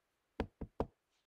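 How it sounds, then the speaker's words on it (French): Three sharp knocks on a door, one after another in quick succession, close and distinct against near silence. "ils ont frappé à ma porte"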